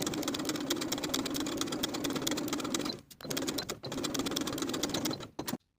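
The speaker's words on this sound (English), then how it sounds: "Sew in place with a 3/8 inch seam allowance" A sewing machine stitches a pocket onto a pair of elastic-waist culottes in fast, even bursts, pausing briefly twice before running on and stopping.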